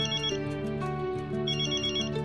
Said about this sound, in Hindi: क्या हुआ, किसका फोन है?